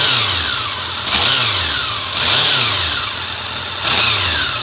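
A Honda CB400 Four motorcycle engine, firing on only three cylinders, revs up repeatedly in uneven, rough bursts, each pickup rising and falling, close and loud with a ragged, misfiring tone.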